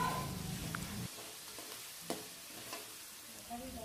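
Small chopped tomato goes into a frying pan of rava kichadi, giving a soft sizzle with a few faint stirring scrapes and clinks, quiet and close.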